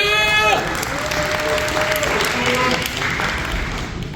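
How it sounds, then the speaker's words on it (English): Audience applause at a real estate talk fills the room as a speaker takes the stage, steady clapping with a bit of crowd noise over fading music tones. "Give another round of applause."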